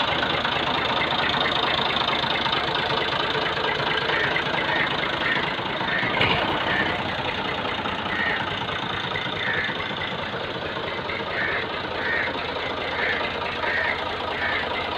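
A 2018 Massey 240 tractor in good condition idles after starting, its diesel engine chugging steadily and evenly throughout at a close, constant level.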